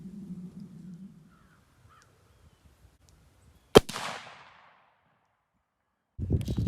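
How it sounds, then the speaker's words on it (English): A single sharp .223 rifle shot, a Federal Fusion 62 grain load fired into ballistic gel from 30 yards, cracks loudly, then a short echoing decay fades out, with low rumbling noise before and after. "So now I'm going to move a lot closer and shoot it at 30 yards."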